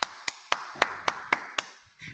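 One person clapping hands about eight times in a steady rhythm, each clap sharp and close in a quiet room, followed by a faint trailing sound.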